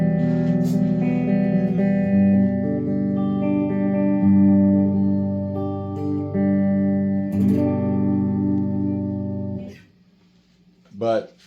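An Epiphone Joe Bonamassa 1955 Les Paul Standard electric guitar plays sustained chords soaked in reverb, ringing for several seconds before fading, then a brief final strum, alone with no talking.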